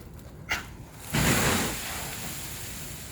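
Firefighter's straight-stream fire hose sprays about a gallon of water at a ceiling during a training burn: a sudden loud rushing hiss starts and then settles into a steady broadband spray roar, after a brief thump.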